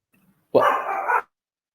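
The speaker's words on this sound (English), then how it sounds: "my dog's barking" A single dog bark, loud and close, bursting out alone in an otherwise quiet room during a home podcast recording.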